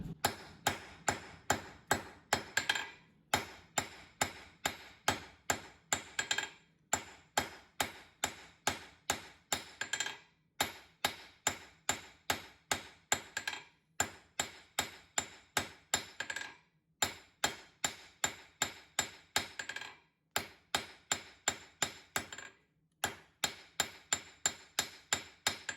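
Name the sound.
blacksmith hammering hot steel to taper a forged drift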